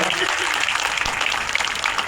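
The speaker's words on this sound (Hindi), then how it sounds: "आदरणीय भूपेश बघेल जी, जोरदार ताली एक बार स्वागत" Dense applause fills the space at an annual association convention, a steady wash of clapping from a crowd with no pause.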